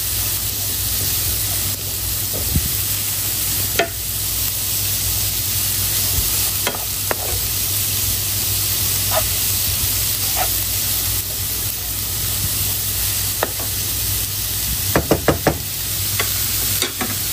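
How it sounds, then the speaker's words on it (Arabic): Cauliflower rice stir-fries in olive oil with a steady sizzle, punctuated by occasional spoon scrapes and knocks against the pan, including a quick cluster of taps near the end; no one speaks. "نخلطها شوي ونقليها مع زيت الزيتون"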